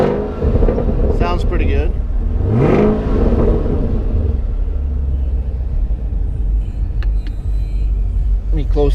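A 2016 Chevy Camaro SS V8 on its stock OEM exhaust starts up and idles with a loud, close rumble, then rises through a few revs before settling back; someone speaks briefly over the engine.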